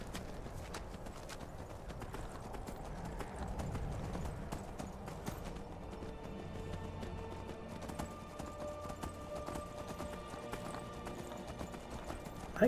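A horse's hooves clip-clop steadily in the Skyrim video game, a continuous moderately faint rhythmic clopping with an occasional whinny, no talk over it.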